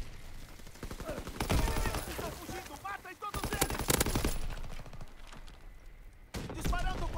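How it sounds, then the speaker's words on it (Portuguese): Full-force gunfire in the Call of Duty WWII shooter game, rapid machine-gun bursts in several loud stretches with quieter gaps between, while a voice speaks briefly under the shooting. "Disparando com força total."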